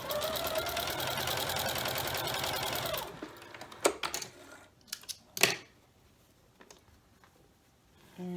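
A sewing machine stitches quilt strips in a steady, fast, close run for about three seconds, then stops, followed by a few quiet clicks and handling sounds.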